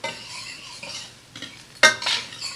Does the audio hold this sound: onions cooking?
yes